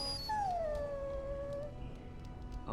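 A dog in the Dragon Age: Origins game lets out a long, sliding howl that fades into thin whimpering whines, heard close and clear over a low background hum.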